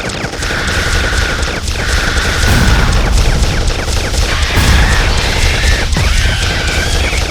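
A cartoon robot battle fills with loud, dense booms and rapid blasts as missiles launch and explode, a continuous roaring barrage of impacts with musical score underneath.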